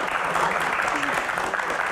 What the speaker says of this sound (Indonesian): bolehkah minta tepuk tangannya untuk yang belum menikah?